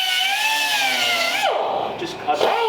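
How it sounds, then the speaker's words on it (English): A cutoff grinder cuts into the frame of a 1934 Ford, giving a steady high motor whine that winds down sharply partway through and then briefly revs again, loud and close. "So I like this cutoff grinder"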